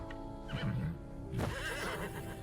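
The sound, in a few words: horse neighing during charge, from video game Wartales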